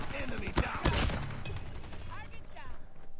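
Hip-fired Damascus PP assault rifle with no attachments in Call of Duty Mobile Hardpoint, a few sharp loud bursts of rapid shots early on followed by quieter scattered fire and game effects, with a voice partly over it.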